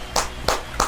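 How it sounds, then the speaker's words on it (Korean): Three sharp, separate hand claps spaced about a third of a second apart, close and clear against a quiet background during a talk about treating a herniated lumbar disc at home. "박수."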